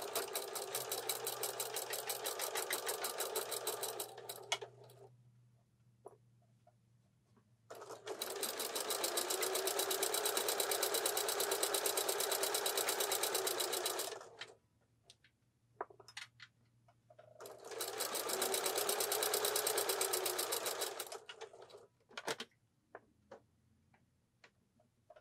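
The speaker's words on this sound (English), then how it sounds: "we are sewing a half inch seam and we are lengthening our stitch as well" A sewing machine stitches a half inch pillow seam with a lengthened stitch, running in three steady bursts of rapid ticking whir separated by short pauses, close and clear with no talking.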